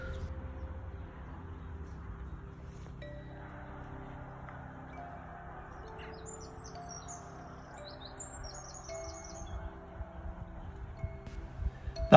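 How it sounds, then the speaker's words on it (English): A wren sings near lagoons and a reed bed, its rapid, high trilling phrases bursting out over a quiet outdoor background with faint distant traffic rumble. "That was a wren we just heard singing, a small bird with a big voice."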